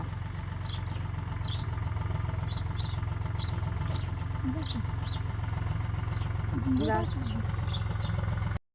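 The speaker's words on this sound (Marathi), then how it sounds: "ट्रॅक्टर चालू आहे का" A tractor engine runs steadily on a farm, a low continuous rumble held throughout and fairly close, with scattered voices and other faint background sounds over it.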